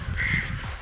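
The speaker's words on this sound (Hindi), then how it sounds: "जिसमें कौवा बोल रहा है" A crow caws near a graveyard in a small Indian village, one harsh call rising over steady outdoor ambience.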